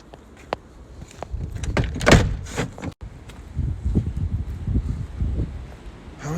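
An old wooden door in a Victorian horse stable creaks and scrapes as it swings open, with thuds and rustling in a loud, uneven burst that quiets before more shuffling.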